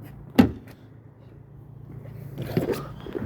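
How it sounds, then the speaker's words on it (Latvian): A 2006 Honda Jazz unlocking its doors by remote key, a single sharp thunk of the locks followed by quiet shuffling and handling noise nearby. "var atslēgt durvis"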